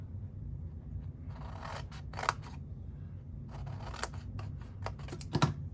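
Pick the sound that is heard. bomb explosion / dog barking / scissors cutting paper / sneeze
scissors cutting paper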